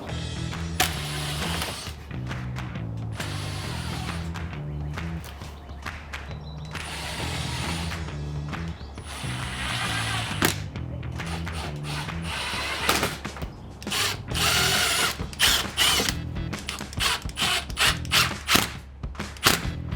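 A power driver runs screws into the front chin spoiler splitter of a 2018–2023 Ford Mustang GT, whirring in repeated bursts with ratcheting clicks, loud and close, with no talking.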